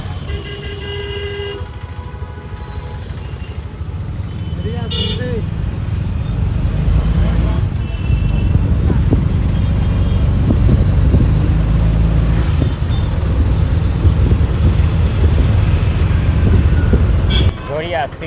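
Ride in an auto rickshaw along a road from Dhanbad station toward Jharia, with a steady loud engine drone and wind rush throughout, occasional horn toots in traffic and voices talking over it.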